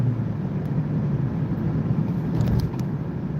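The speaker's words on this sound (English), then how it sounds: "Oh, I tell you, this is traffic." Steady road traffic, a continuous low rumble of cars passing by at moderate distance, unbroken throughout with no voices.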